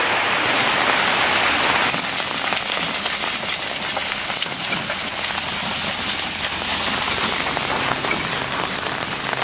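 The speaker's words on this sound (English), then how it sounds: "Today's a bit rainy here in Ecuador." Steady rain falls in Ecuador, a continuous dense hiss of drops on surfaces that stays even and close for the whole stretch, with no voices.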